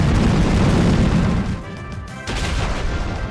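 A loud, rumbling blast plays in the Pokemon Rising Ruby game as the move Explosion hits, a heavy crash that dips briefly before a second booming burst follows.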